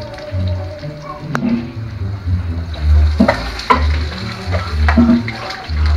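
Onion and broth simmering in a pot for Totonac-style charal fritters, giving a steady close sizzle and bubbling with occasional stirring clinks and scrapes throughout, no talking.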